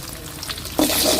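Egg rice seasoned with pepper powder, turmeric and salt being stirred in a hot pan, a close, loud sizzle that swells into a dense scraping fry as the mixture is turned.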